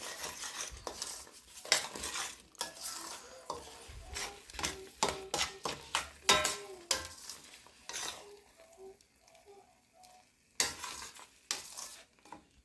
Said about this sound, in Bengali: শাকের পেস্টটা একটু নাড়াচাড়া করে নেব ঘিয়ের মধ্যে।